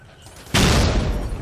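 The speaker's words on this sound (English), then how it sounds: "Each grenade impact both sounds rapturous and shakes the screen heavily." A single loud grenade explosion in the video game Payday 2 bursts suddenly after a quiet moment, its broad rumbling blast sustained and decaying slowly.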